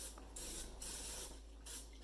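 Cooking spray hisses onto a Pyrex baking pan in a home kitchen, in three short bursts with brief pauses between them, quiet and close over a low steady hum.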